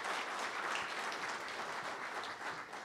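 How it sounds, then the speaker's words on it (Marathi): An audience at a lecture applauds to welcome the guest speaker, a former state chief secretary, with steady, continuous clapping throughout, fairly distant and unbroken. "त्यांचं सगळ्यांनी टाळ्या वाजवून स्वागत करावं असं मला वाटतं"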